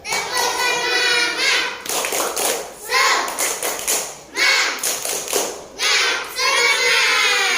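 Schoolchildren in a religious-education class clap the tepuk semangat chant in unison, bursts of rhythmic clapping mixed with shouted voices, alternating with a teacher's spoken prompts between rounds.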